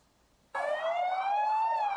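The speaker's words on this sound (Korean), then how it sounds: "화재 신고를 받은 소방차가 달려갑니다." A fire engine siren on a call in a city, wailing loud and close. It kicks in abruptly after a moment of quiet, then holds a steady rising tone with strong harmonics.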